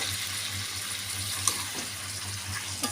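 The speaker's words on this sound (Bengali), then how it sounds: "একটু অল্প করে জল দিয়ে দিয়েছি" Water trickles and splashes into a pot of pumpkin, potato and jackfruit seed vegetable curry, a soft continuous pour with faint clinks, fairly quiet and without voices.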